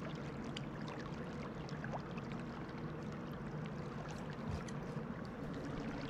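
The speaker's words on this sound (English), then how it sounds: "Uh-oh, I hear water." Steady flowing water in the video game Rain World, a continuous rushing wash with faint trickles and a few soft clicks, at even level with no talk.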